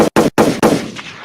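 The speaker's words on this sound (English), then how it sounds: "Gunshots." Three loud, close gunshots crack in quick succession, the last one trailing off into a fading echo, with no talking.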